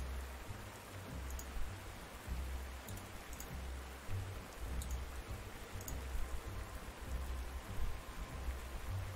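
Steady rain falls in the Panzer Corps 2 strategy game, a constant soft wash of hiss with low rumbling undertones and a few faint crackles, with no talking over it.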